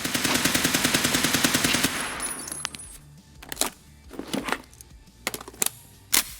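A .308 rifle in Escape from Tarkov rattles off a fast, even burst of about a dozen rounds, then fires several separate sharp shots with short pauses between them.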